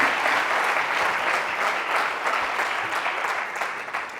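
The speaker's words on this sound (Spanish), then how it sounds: "un aplauso muy fuerte para todos los adictos que están en recuperación" An audience at a lecture on addiction prevention and recovery in Macael applauds loudly and steadily, a dense wash of many hands clapping for the full length with no talk.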